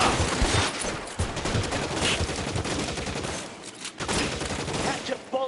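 Bursts of rapid gunfire fill a shootout in the video game L.A. Noire, dense fusillades crackling continuously with short lulls, while voices shout over the shooting.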